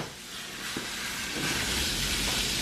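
Meat hits a hot high-sided pan on the stove and breaks into a loud, close hissing sizzle that swells and holds steady, with no talk.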